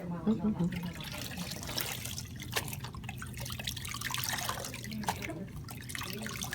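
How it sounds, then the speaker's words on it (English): Water trickles and splashes as soap is rinsed from a baby's freshly washed hair, a soft close running flow with faint voices underneath. "let's rinse it out"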